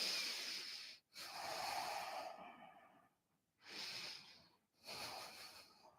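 Three forceful breaths push out through the nose and mouth during a beginner Pilates exercise, each a close, airy hiss of a second or more, with short silent gaps between them.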